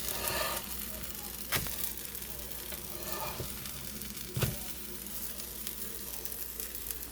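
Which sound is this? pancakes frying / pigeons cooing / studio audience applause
pancakes frying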